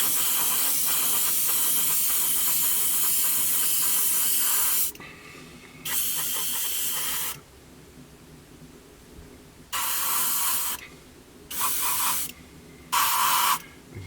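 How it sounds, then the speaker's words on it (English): An airbrush sprays paint onto a 1/72 Airfix Jet Provost model kit in close, steady hissing bursts, one long spray followed by several shorter on-off passes with quiet gaps between. "we're just being mindful that we're not going to spray directly into the cockpit"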